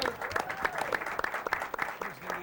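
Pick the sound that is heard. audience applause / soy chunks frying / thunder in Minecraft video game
audience applause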